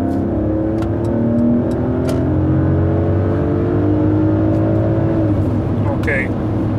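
A 2019 Mercedes GLE 450 accelerating at full throttle on the highway, its engine note rising steadily in pitch through a long pull with a gear change near the end, heard from inside the cabin over road and wind noise.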